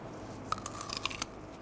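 A crunchy green maesil plum bitten into, giving a few crisp, close crunches and crackles spread over about a second, with no talking.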